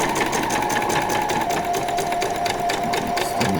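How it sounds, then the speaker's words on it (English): A sewing machine back-stitching ribbon onto a skirt, its rapid even needle chatter running loud and close throughout with a faint tonal whine. "I'm just going to do a back stitch"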